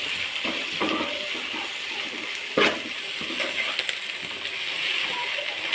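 Garlic frying in a pan for a home-style chicken curry, a steady broadband sizzle with scraping and clinking of stirring throughout and one sharp knock near the middle.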